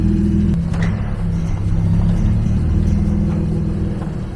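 A Mazda Miata fitted with a swapped LFX V6 engine pulls away, a low steady engine rumble with a deep droning tone, fairly close and continuous with no talking.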